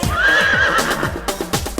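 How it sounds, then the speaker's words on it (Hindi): A horse lets out a loud, shrill whinny, followed by a few rhythmic clip-clops, all set against a steady beat. "हिन हिन करता घोड़ा भागे।"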